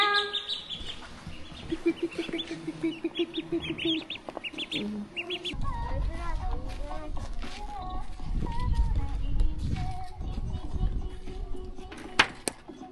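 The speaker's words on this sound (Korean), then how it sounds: "애기 병아리들 귀엽네" Farm fowl including baby chicks and ducklings chirping and peeping at a highland ranch, high busy cheeps mixed with clucking, while people talk nearby and a rougher low rumble joins partway through.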